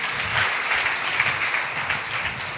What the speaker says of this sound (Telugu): ताली बजाएं जोरदार